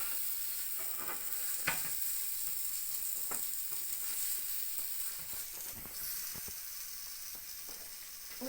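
Baby bok choy cooking in a pan after mushrooms were browned in it, giving a steady soft sizzle with occasional stirring scrapes and clicks, fairly close and without any talking.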